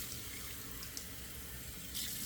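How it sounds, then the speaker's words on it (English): Cold tap water runs and splashes steadily into a sink after a shave, a continuous close hiss with a small burst of splashing near the end. "One moment while I do 2 splashes of cold water."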